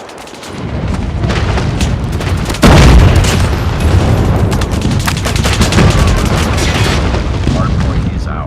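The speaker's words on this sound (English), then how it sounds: "Friendly airstrike incoming." An airstrike in Call of Duty Mobile multiplayer pounds the map, a loud boom followed by sustained rumbling explosions and gunfire crackle filling the whole span.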